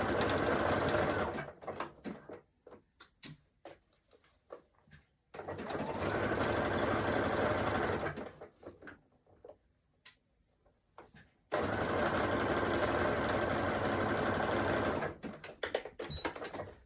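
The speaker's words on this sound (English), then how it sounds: "So I'm going to continue sewing all the way around the neckband, giving it a gentle stretch as I go" A sewing machine stitches a stretched T-shirt neckband in three sustained runs of fast, even whirring, separated by short pauses with faint handling clicks.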